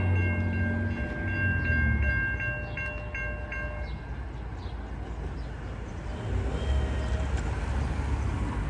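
Street-running freight train with seven locomotives sounding a series of short horn blasts on a city street, then rumbling past close by as a loud, steady roar of wheels and engines.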